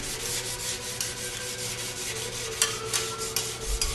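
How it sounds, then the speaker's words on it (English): Rasp filing the trailing edge of a propeller during a field repair, a steady rhythmic scraping with repeated close strokes and a few sharper bites near the end, no talk. "So I can rasp it, maybe use a mill file after that, then sandpaper, and then repaint it."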